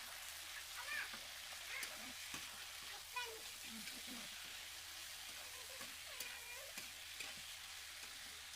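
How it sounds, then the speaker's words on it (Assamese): Broiler chicken pieces sizzle steadily in a pan with browned onions, a continuous close frying hiss broken by occasional scrapes and clinks of stirring. "মাংসখিনি দি মই এতিয়া ভাজি ল'ম।"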